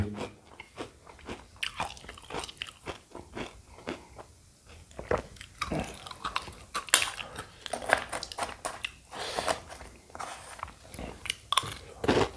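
Mini Coco Crunch chocolate snack being chewed close to the mic, with dense, irregular crisp crunches and bites continuing throughout, loud against a quiet background.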